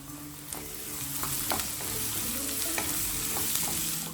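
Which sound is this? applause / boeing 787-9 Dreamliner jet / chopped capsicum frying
chopped capsicum frying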